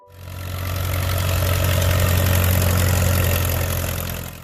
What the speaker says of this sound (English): Number 5, the Allis Chalmers D17.